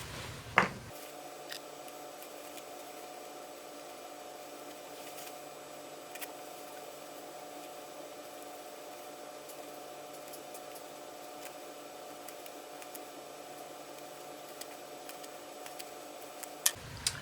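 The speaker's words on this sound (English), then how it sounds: "I'm just going to seam rip this open real quick" Faint, sparse clicks and small snips from a seam ripper cutting through the stitches of a jacket sleeve lining, scattered irregularly over a steady electrical hum in a quiet room.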